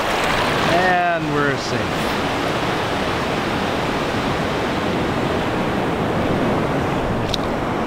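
Ocean surf at a beach on Eleuthera washes in and pulls back in a continuous loud broadband rush, close by, while someone speaks briefly near the start.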